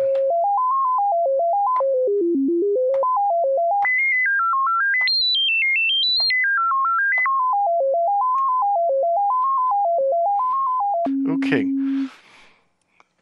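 An analog Eurorack synthesizer filter plays a fast stepping sequence of pure tones that rises and falls in pitch, ending with a brief low buzz and a burst of noise.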